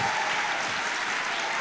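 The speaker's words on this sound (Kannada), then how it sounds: "ಆತ್ಮ ಉಳ್ಳವರಾಗಿದೆ ಜೋರಾಗಿ ಚಪ್ಪಾಳೆ ತಟ್ತಾರೆ" A church congregation applauds loudly and steadily, a dense wash of many hands clapping together throughout with no speech on top.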